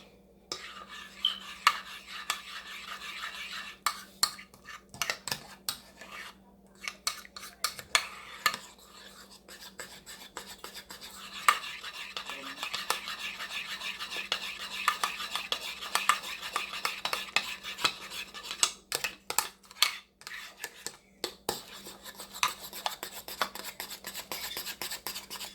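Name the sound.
stirring soap mixture with olive oil in a bowl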